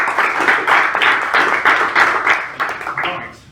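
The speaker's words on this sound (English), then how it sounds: "Let's give him a round of applause." People at a business networking meeting give a round of applause, a busy patter of many hands that holds steady and then tapers off toward the end.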